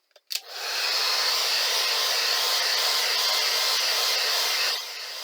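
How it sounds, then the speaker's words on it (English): A hair dryer switches on with a click and blows steadily at close range for several seconds, then its roar drops slightly near the end. "Now would be a good time to hit it with the hairdryer"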